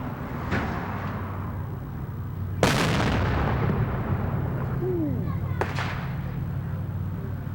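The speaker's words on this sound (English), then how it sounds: "Now people light up fireworks." Fourth of July fireworks go off in sharp explosive bangs over a steady background roar: a faint pop early, one loud close blast, then another crack, with a whistling streak between them.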